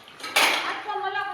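Dishes clatter sharply at a home sink, with one loud clink followed by running water and faint rattling while people talk nearby.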